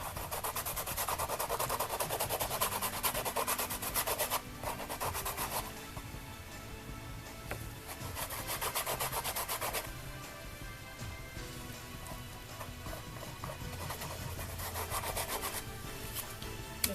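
Rub and Buff wax paste rubbed steadily onto a treasure box, a continuous close scratchy friction that runs without pause, briefly easing and then picking back up.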